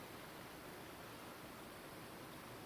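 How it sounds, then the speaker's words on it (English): Brown, muddy water rushing over the top of a waterfall, a steady broadband roar that holds evenly throughout, with no voices. "That's the top of the waterfall."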